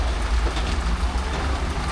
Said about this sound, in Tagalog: Inabot ng ulan yung mga kalapati ko.